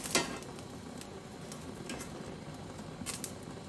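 Poblano peppers roast directly over a gas stove flame, their skins giving off a steady soft hiss broken by scattered sharp little pops and crackles, close and fairly quiet.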